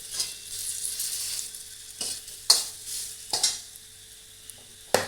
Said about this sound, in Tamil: நல்லெண்ணெயில் எல்லாமே வதக்கிக்கலாம்.